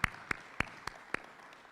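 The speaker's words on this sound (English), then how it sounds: "I think they deserve a big round of applause." At a mayoral business breakfast, an audience gives a brief, sparse ovation of about five distinct, evenly spaced claps that ring out sharply over a quiet room.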